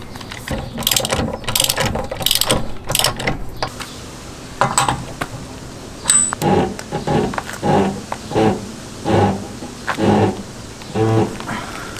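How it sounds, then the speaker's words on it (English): Quick bursts of ratchet clicking, then a steadier series of cranking strokes in a regular rhythm as an axle nut is tightened, close by with some background noise. "I've just retightened the axle nut, and I've staked the nut as well"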